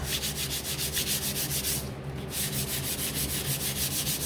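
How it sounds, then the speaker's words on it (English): Rapid back-and-forth hand sanding on a wooden door hanger, a steady rhythmic scratchy rasp close up, briefly pausing midway before resuming at the same brisk pace. "So I'm just going to sand this."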